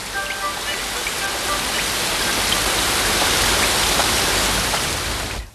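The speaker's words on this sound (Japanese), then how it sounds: "でもこの雨止まないかもしれませんよ。" Steady rain pours down in a loud, continuous broadband hiss with scattered drip and patter detail, lasting the whole stretch and cutting off abruptly at the end.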